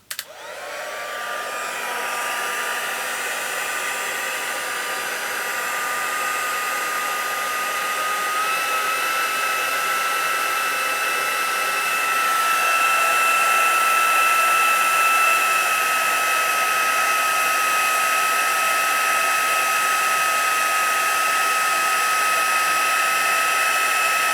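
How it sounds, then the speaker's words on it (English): A heat embossing tool blows continuously, a steady loud whooshing hum with a high whine that holds for the whole stretch. "the heat tool is going to be really lovely and hot"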